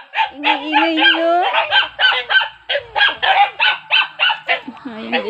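Pet geese honk loudly and close by in a rapid, repeated series of harsh calls, with a voice briefly speaking among them.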